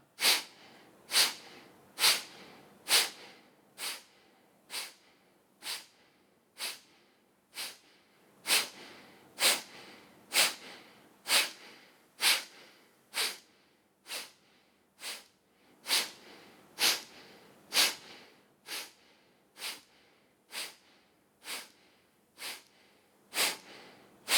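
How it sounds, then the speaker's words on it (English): Rapid, forceful nasal exhalations of Kapalabhati yoga breathing, about one sharp snort-like puff per second, repeated evenly and close for over twenty seconds with nothing else heard. "Keep focusing on these forceful exhalations, purifying, getting rid of any carbon dioxide, refreshing."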